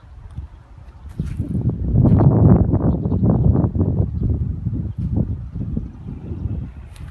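A tractor works a field beside a vegetable garden, its broadband engine rumble steady and fairly loud after a quieter opening, rising and falling gently with wind-like noise over the whole stretch.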